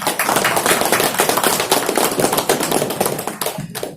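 A crowd of company staff at a meeting in Kolkata applauding loudly, dense fast clapping from many hands, close and sustained, thinning out near the end.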